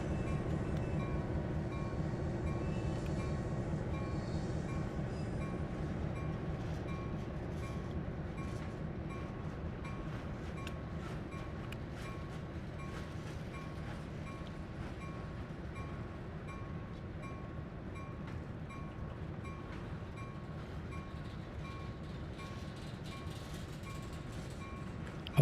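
A video-game train runs along Horseshoe Curve, a continuous low rumble and rolling clatter of wheels and wagons holding steady and fairly close throughout, with no talk.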